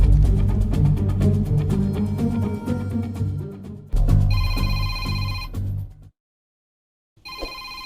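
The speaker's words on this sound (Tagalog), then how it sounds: "May nanawag ni mo." A telephone rings with an incoming call: repeated electronic ring bursts, first over a busy musical background, then alone and clear, cutting out briefly near the end before ringing again.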